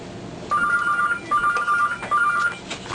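A telephone rings in bursts, three electronic trills in quick succession, loud and close in a quiet home.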